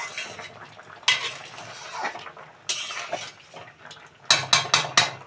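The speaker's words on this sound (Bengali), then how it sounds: "আমরা মাঝে একবার ঢাকাটাকে খুলে নিয়ে তরকারিটাকে একবার একটু নাড়িয়ে দেখব।" A pot lid comes off and a shrimp curry is stirred in a metal pan, with several sharp clanks and scrapes of a utensil against the pot, close and clear, ending in a quick run of metallic knocks.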